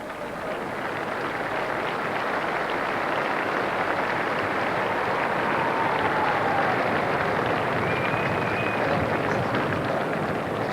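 Sustained crowd applause at the 1994 Presidents Cup rugby league grand final as the Cronulla Sutherland team goes up to receive winners' medals, a steady dense wash of many hands clapping throughout.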